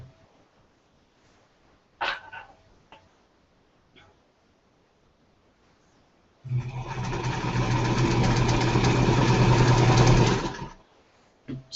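A home sewing machine runs steadily for about four seconds as it stitches quilt pieces, a loud continuous motor hum with fast needle rhythm, preceded by a few faint clicks and handling noises in an otherwise quiet room.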